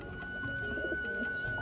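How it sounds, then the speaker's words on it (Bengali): Pigeons coo softly while pecking at grit, a short stretch of low murmuring calls close by with a faint chirp near the end over a steady background hum. "এরা গ্রিড খাচ্ছে কিছু পায়রা"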